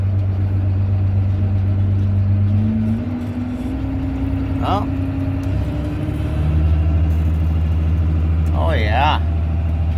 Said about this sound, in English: let's see if this thing is actually gonna pump